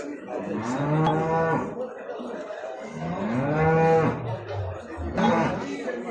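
A dairy cow moos loudly and close by at a livestock market in Mashtaga, Azerbaijan, three long lowing calls in a row, with faint voices chattering in the background.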